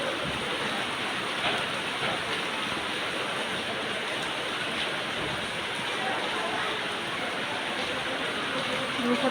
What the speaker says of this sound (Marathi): बघा पाऊस कसला भारी येतोय.